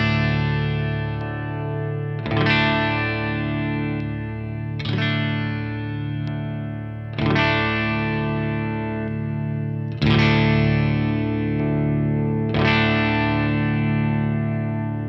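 Electric guitar chords played through an Origin Effects Halcyon Green Overdrive pedal are strummed about six times at a slow, even pace, each ringing out warm and lightly distorted before the next strum.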